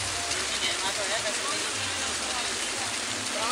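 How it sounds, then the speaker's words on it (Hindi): Heavy, continuous rain pours onto a highway in India, where a line of kanwar pilgrims walks and traffic moves on one side, making a dense, even hiss that fills the whole stretch. "बरसात हो रही है बहुत अच्छी, इस बार लगातार वर्षा हो रही है।"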